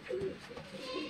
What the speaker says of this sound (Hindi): उड़ते फिरते कबूतर हैं